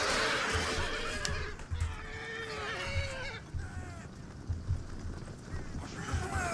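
Horses neigh and whinny repeatedly in a Shogun Total War battle, several calls overlapping over a constant din of fighting, loud and close.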